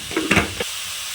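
Spice powders such as turmeric hitting hot oil in a pan for a home-style chicken curry give a short burst of crackling sizzle with a stirring scrape, then settle into a soft steady hiss. No one speaks.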